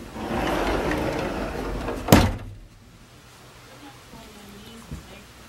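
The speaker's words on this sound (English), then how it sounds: "with a pocket door." A pocket door sliding shut in a wall added to an old cabin gives one sharp knock midway, standing out from a dull background hum before the room falls quieter.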